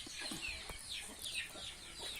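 Bantam chickens cluck and squawk repeatedly on a Thai farm, a string of short, high, rising calls at moderate distance over faint outdoor background, with no talk.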